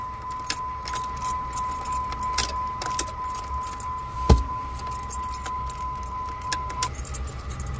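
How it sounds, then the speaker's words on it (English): A bunch of keys jingles close by as the key is pulled from the ignition of a 2005–2009 Jeep Liberty 3.7 L, with a steady electronic chime tone running underneath and one sharper clack partway through. "I'm gonna take the key out."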